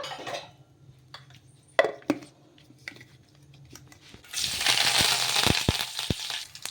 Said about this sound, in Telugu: నీళ్ళు ఇంకా మిక్సీ అయితే పట్టేసుకుందాం ఇప్పుడు